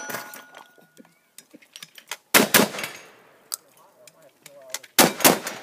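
Pistol gunshots crack out as loud, sharp reports, arriving in two close pairs a few seconds apart, with quieter clicks and faint voices in between.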